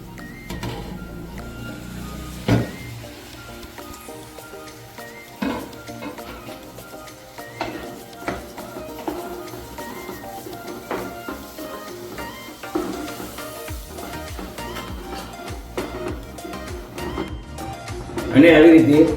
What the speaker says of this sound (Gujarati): અને આવી રીતે મિક્સ કરતા રહીશું।